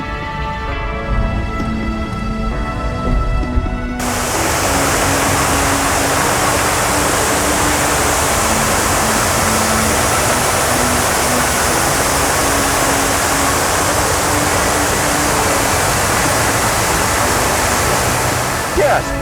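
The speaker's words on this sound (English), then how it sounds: "a spectacular man-made waterfall" A spectacular man-made waterfall on the southwest side of South Maui roars as a loud, steady broadband rush of falling water close by, starting abruptly after a few seconds of someone talking over music.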